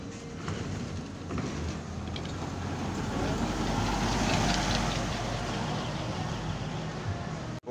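A Rosalia Indah Eksekutif Plus coach rolls into the Purabaya bus terminal in Surabaya, its deep diesel rumble swelling closer and louder amid the surrounding traffic noise before easing off.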